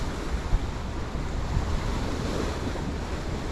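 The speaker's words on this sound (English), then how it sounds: "I'm struggling today in this wind." Wind gusts and waves wash steadily at Michigan City pier, a continuous broadband rush of surf and blowing air at moderate level with a small thump early on.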